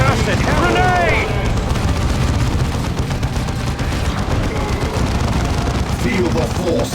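Grenade blast and heavy gunfire in the strategy game Dawn of War 2, a loud, dense barrage of explosions and rapid automatic shots, with brief whooshing effects and a voice talking partway through.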